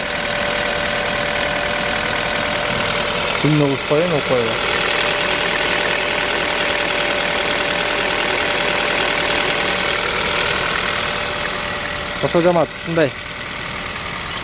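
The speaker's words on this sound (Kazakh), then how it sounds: "мотор мынакей четко стабильно иштеп атат" A 2017 Kia Rio with manual transmission idling steadily with an even, continuous hum, heard close, while someone talks briefly twice.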